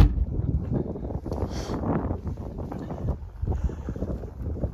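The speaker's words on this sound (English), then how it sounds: "Man, that wind is just bitterly cold." Cold wind blows outdoors around a parked travel trailer, buffeting the microphone with low rumbling gusts that rise and fall throughout, loud and close.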